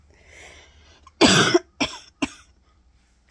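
Three sharp, painful coughs from one person recovering from surgery nearby, a long harsh one followed by two shorter bursts, with quiet background between them.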